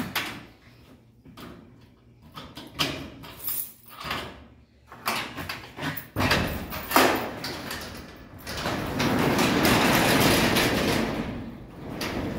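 Door of a mail truck sliding open and shut, a series of clunks and rattles at close range followed by a steady rumble of truck noise, with no talk.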